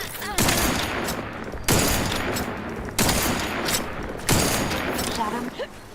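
Gunfire in The Outer Worlds 2 video game, heard as four loud rapid-fire volleys, each starting abruptly and holding for about a second before the next burst.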